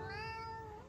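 A single drawn-out cat meow from the video game Ravenous Devils, clear and tonal, rising slightly then fading at the end, heard alone without talk.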